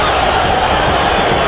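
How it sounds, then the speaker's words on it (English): A modest football crowd at Rufaro Stadium during a Dynamos FC versus Ngezi Platinum FC league match, a loud, dense, continuous roar of many distant voices with no distinct individual calls. "Not a very good crowd here at Rufaro, Joseph."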